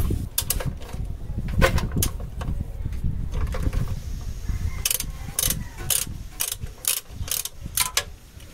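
A 14mm ratchet wrench loosening the oil drain plug on a Toyota Fortuner with a 2TR-FE gas engine, giving repeated close, sharp ratchet clicks in quick bursts, with sparse clicking early on and rhythmic clicking in the second half.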